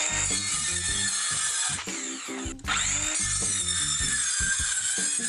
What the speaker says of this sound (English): I started by cutting all the pieces of wood out based on the length of my LED strips